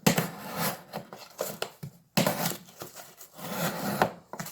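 A Smith & Wesson Sideburn knife with a thin blade stock and a thin edge slicing through material: close, scraping cuts in several rhythmic strokes, separated by a short pause midway.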